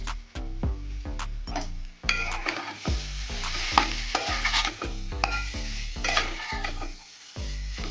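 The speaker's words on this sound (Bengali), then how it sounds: "এই টমেটোটা দিয়ে দিচ্ছি এখন, দিয়ে ভালো করে নেড়ে চেড়ে" A spoon stirs tomato with ground cumin in a frying pan, making a run of sharp, rhythmic scrapes and knocks against the metal over a steady sizzle of hot oil, close and loud, with no talk.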